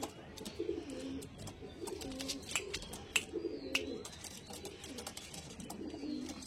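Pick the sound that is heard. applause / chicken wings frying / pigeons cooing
pigeons cooing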